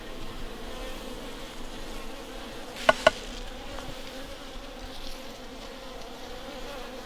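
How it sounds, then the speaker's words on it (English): A steady drone of many honeybees buzzing close by around a hive's pollen trap, with two sharp knocks partway through. "this hive has a lot more bees and more of them that are hanging around in the trap."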